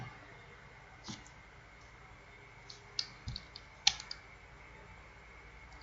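Scattered keystrokes on a computer keyboard, a few soft taps and clicks spread irregularly with longer pauses between them, faint and close against a quiet room background.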